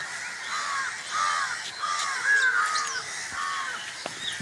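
Crows caw repeatedly from a tree in a village, harsh calls overlapping at close to middle distance over a steady outdoor background hiss.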